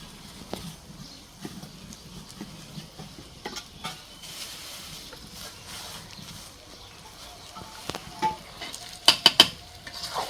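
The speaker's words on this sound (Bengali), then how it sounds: "চালটা একটু ভাজা ভাজা করবো" Rice is stir-fried in a pan for biryani, with intermittent scraping and stirring over a low sizzle, and a few sharper metallic clatters near the end. No one talks.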